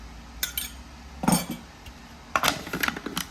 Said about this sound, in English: Give this a good mix.